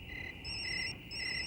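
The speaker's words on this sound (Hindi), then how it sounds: "फोन की आवाज तो वहीं से आ रही" A mobile phone rings nearby, its electronic ringtone repeating in bright, even bursts with a short pause between them. The ringing is moderately faint and steady, with no talking over it.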